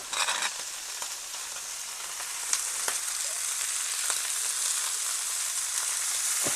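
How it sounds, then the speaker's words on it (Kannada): Spicy prawns fry in coconut oil on a tawa with a steady, close sizzle and scattered sharp pops. "ನೋಡ್ಬೋದು ಯಾವ ಥರ ಫ್ರೈ ಆಗ್ತಾ ಉಂಟಂತ"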